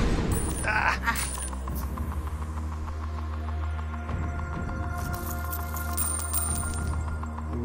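A Tipping Point game show arcade machine drops counters onto its moving shelves, a loud metallic clattering and rattling over a constant electrical hum, with a voice talking in the background.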